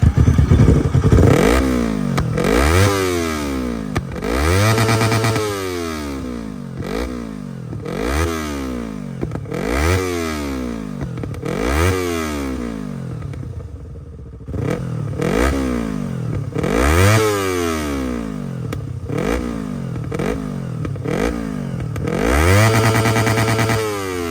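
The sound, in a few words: motorcycle exhaust revving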